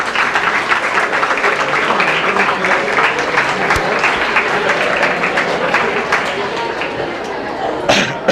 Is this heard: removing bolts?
no